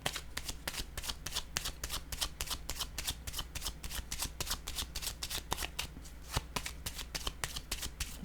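Playing cards are shuffled rapidly by hand during a card reading, a close, crisp run of riffling flutters repeating in quick bursts over a low steady hum.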